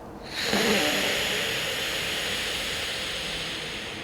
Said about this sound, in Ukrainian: Правий глибокий вдих, затримка.